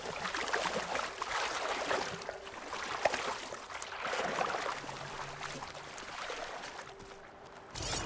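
Broad watery swishing and splashing as a character swims in Horizon Forbidden West, steady and close throughout with soft rushing texture and a brief dip near the end.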